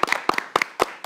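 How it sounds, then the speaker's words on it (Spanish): Hand claps for the Invivienda parish group at a family rosario gathering, five sharp, close claps spaced roughly a quarter second apart in a brief, sparse burst. "Un aplauso para Invivienda."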